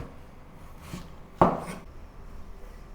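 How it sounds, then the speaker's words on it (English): A knife cuts through onion on a board, one crisp close chop standing out after a fainter earlier tap, over a quiet kitchen background. "cut the onions into slices too"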